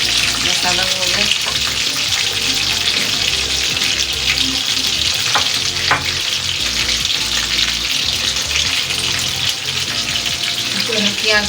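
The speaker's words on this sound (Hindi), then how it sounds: "से सारी मछली फ्राई करनी है" Fish pieces coated in spiced gram flour batter fry in hot oil, giving a steady, loud, crackling sizzle that runs without a break. Some faint watery hiss sits in the background.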